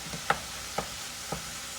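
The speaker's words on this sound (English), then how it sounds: "Continue cooking my ground pork." Ground pork frying in a pan, with a soft, quiet sizzle under three sharp clicks and scrapes of a spatula against the pan.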